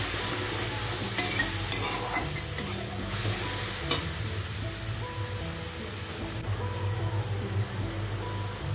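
Spice masala mixed with water sizzles in a pan for onion-free, garlic-free shahi paneer, a continuous close hiss with occasional faint clicks of the stirring spoon.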